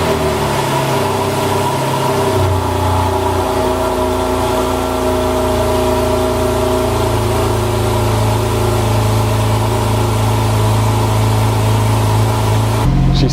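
A Porsche 911 GTS engine cranks and fires up, then settles into a loud, steady, close idle with a deep rumble and a slight shift in tone partway through, cutting off abruptly at the end.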